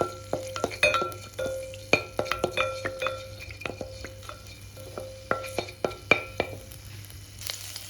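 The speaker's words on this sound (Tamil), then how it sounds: "ஜிஞ்சர் கார்லிக் பேஸ்ட்டும் இது ஸ்ப்ரிங் ஆனியனும் அதோட லெமன் கிராஸ் இதெல்லாம் நம்ம வந்து சாட்டே பண்ண போகிறோம் ஃபர்ஸ்ட்" Ginger garlic paste sautéing in a pan, with a faint sizzle under repeated sharp clinks and scrapes of a spoon stirring against metal, fairly quiet and close.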